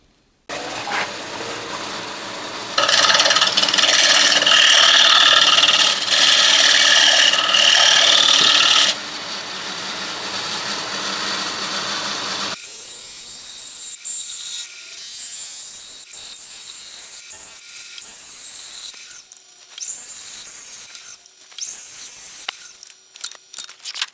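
Wood lathe finish-turning a roughed-out green wood bowl: a loud scraping, rasping cut for several seconds, then a quieter spinning hum, and later softer intermittent scraping with light tool clatter.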